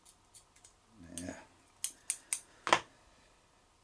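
Small scissors snip several times at a fly-tying bench, a quick series of four or five crisp, close clicks following some soft handling noises, faint and otherwise quiet.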